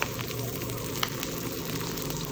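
Dried fish (tuyo) fries in a pan, a steady close crackling hiss with small pops scattered throughout and no one speaking.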